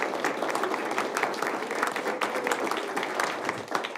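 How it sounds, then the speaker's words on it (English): An audience at a Lindon City Council meeting applauds young women from Shawnee, a dense, even patter of many hands clapping steadily throughout at moderate loudness. "let's give a round of applause to these young women in Shawnee"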